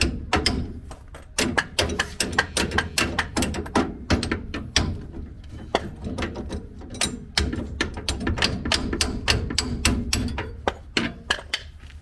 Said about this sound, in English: Gonna use this hammer.